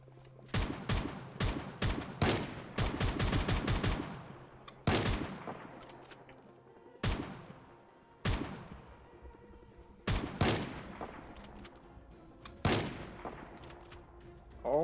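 Gunfire in the zombie survival video game Project Zomboid: rapid bursts of shots at the start, then single loud reports spaced a second or two apart, with no talking.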